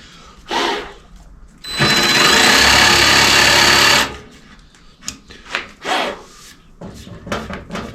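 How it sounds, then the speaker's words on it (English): A jigsaw cutting through a wooden butcher block countertop, one loud sustained buzzing cut of about two seconds, close up, framed by shorter scraping and handling noises of the wood. "It's tough with the jigsaw."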